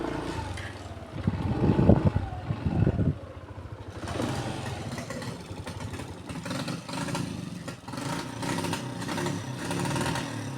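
A boat motor runs on a river with a continuous mid-pitched engine drone, louder and rougher in the first few seconds, then steadier, with no talk over it.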